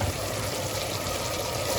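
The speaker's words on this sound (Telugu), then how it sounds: "వాటర్ పోసేసుకున్నాము" Water is poured into a pot for mushroom biryani, giving a continuous, close, broadband rushing splash that stays steady throughout the brief moment without any voice.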